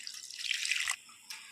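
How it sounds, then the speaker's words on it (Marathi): Leftover water poured into a mixer jar while making Schezwan chutney, a brief splashing trickle that stops abruptly, followed by a short second pour. "हे जे पाणी उरलेलं आहे, तर या मिक्सरच्या जारमध्ये आपण टाकूया थोडंसं"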